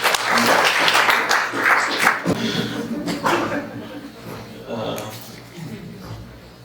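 Audience applause at an anti-racism forum in Saint John, New Brunswick, fairly loud clapping that swells early and then thins and trails off while a voice speaks.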